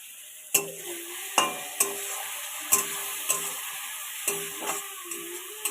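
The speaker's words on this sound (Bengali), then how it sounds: "মশলাটা আমি ভালো করে কষে নেব" Kashmiri chilli powder and turmeric spices being sautéed in a pan for a puti fish curry with brinjal and onion stalks. A steady sizzle runs throughout, broken by repeated sharp scraping stirs and clicks of a spoon against the pan, with no voices.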